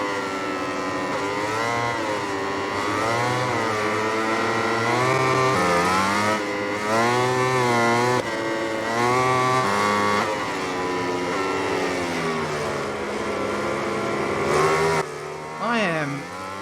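Motorcycles race in the video game MotoGP 20, their engines a loud, continuous high-pitched whine that climbs and falls with each gear change and corner, close throughout with a sudden drop near the end.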